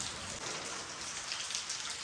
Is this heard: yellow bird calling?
no